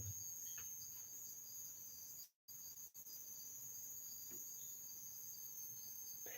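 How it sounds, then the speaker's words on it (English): Steady high-pitched cricket chirping outdoors, continuous and faint, with a brief gap of near silence partway through. "It's crickets."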